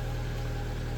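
A Ford Fiesta engine runs steadily at idle, with a constant low, even hum and rumble throughout and no voices.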